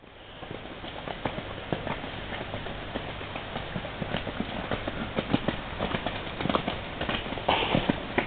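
Hooves of a horse under a rider clip-clop in a steady, close rhythm of sharp strikes, with brief spoken instructions to the rider.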